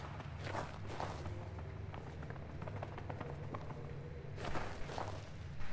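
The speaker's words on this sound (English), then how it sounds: "Oh, I heard footsteps." Footsteps in the horror video game Amnesia: Rebirth, a steady run of close, scuffing steps on a hard surface that swell louder near the end.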